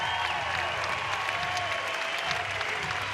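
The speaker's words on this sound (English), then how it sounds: "But an ovation for Kleinschmidt heading to the dugout by this record crowd at Goss Stadium at Coleman Field." Record crowd at Goss Stadium at Coleman Field, a college baseball game, giving a sustained ovation: dense, steady applause and cheering throughout, loud and continuous.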